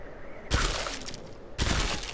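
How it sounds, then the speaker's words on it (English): Two bursts of SMG fire in the video game Killing Floor 2, each a loud, dense volley of rapid shots lasting about a second, separated by a brief lull with no talking. "what I got is an SMG that's supposed to be"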